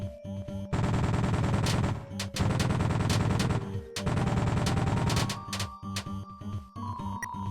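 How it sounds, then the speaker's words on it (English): Rapid bursts of gunfire from the sharpshoot act in Deltarune Chapter 3, loud, dense volleys in several runs separated by short gaps, with game music underneath. "The sharpshoot act can shoot at many things."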